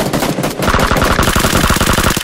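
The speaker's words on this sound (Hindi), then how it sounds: "यार भाई मशीन गन है उनके" Rapid machine gun fire in PUBG Lite, a loud, fast regular burst of shots rattling continuously for about two seconds before cutting off abruptly.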